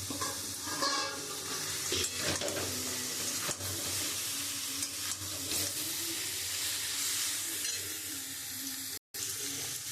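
Lentil dumplings (bori) cooking with taro greens in a pan, a constant wet sizzle and bubbling with scraping stir noises and a few knocks, close and steady, with no voices.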